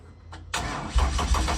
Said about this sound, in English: Cold start E36 M3.